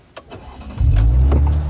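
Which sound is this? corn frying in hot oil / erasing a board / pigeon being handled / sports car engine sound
sports car engine sound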